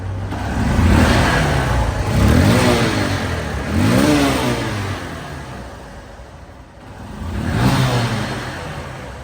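A Honda CB Trigger motorcycle engine revs up several times in rising surges, dropping back to idle between each, close by and loud.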